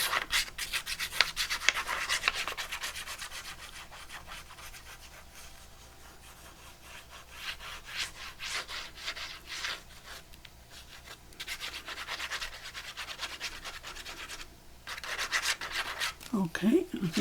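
Steady hand pressure rubbing and smoothing paper down onto a junk journal inner cover, a near, dry scuffing that swells and fades in repeated strokes with brief pauses.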